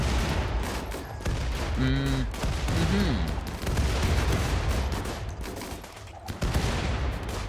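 Turrets in RimWorld firing steadily at target dummies, a dense, continuous barrage of loud close shots with a brief tonal in-game sound partway through.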